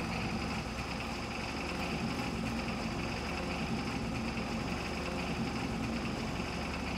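A vehicle engine in Farming Simulator 22 drones steadily and loudly throughout, a constant idling rumble with no pauses.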